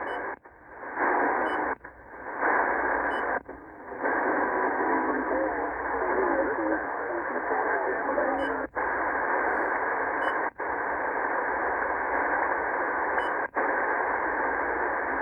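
Amateur radio signals near the top of the 80 meter band come through a Retekess TR113 receiver as a steady hiss of noise and garbled sideband chatter, broken by brief dropouts and faint beeps.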